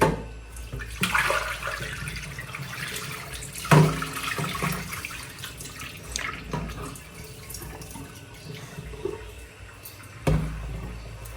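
Tap water runs steadily in a home kitchen during cooking, with a few louder splashes and clatters over the flow and no talking.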